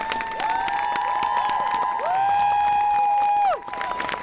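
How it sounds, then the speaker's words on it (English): Crowd at an evening marching band event cheering and whistling for the participating bands, with dense, continuous loud shouts and applause throughout. "Let's give a big round of applause to all the bands that have participated in tonight's event"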